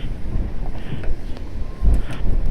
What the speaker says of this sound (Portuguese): Muito vento.